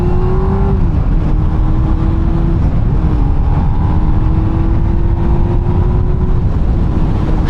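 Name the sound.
Honda Hornet 600 motorcycle engine revving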